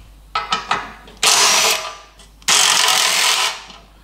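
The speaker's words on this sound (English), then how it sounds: "So I'll unbolt that steering damper mount" Bolts on a steering damper mount on a Land Cruiser FJ45 chassis being undone with a ratcheting tool, a few short clicks followed by two longer rapid ratcheting bursts, close up.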